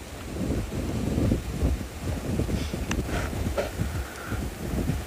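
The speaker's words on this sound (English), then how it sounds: "The wind did pick up a bit" Steady wind buffets and rumbles across the microphone for several seconds, with a faint rustle and no voices.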